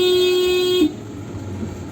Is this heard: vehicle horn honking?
yes